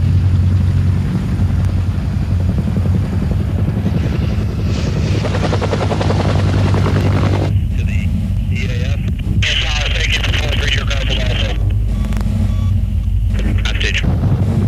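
An AH-1 Cobra attack helicopter flies with a steady, loud rotor and engine rumble throughout, heard under narration.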